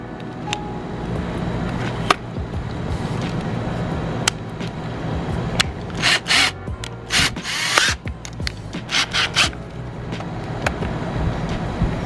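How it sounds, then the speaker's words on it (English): A standard 18-volt power drill fitted with a cutoff wheel adapter spins up in several short, sharp bursts of cutting, with a steady background hum and a few clicks between runs. "Yeah, so I just use a standard 18 volt drill, doesn't take much. Got this adapter for cutoff wheels."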